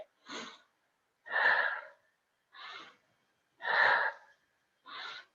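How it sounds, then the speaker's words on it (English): Slow meditative breathing, five separate breaths spaced about a second apart, alternating softer and fuller airy rushes, close and clear with silence between and no talking. "Now I'm breathing in through the nose, out through the mouth."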